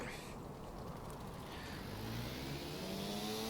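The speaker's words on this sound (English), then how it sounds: "Let's start the engine." In the video game Stormworks, a locomotive engine starts up. Its hum rises in pitch and grows steadily louder over a few seconds, like a diesel spooling up.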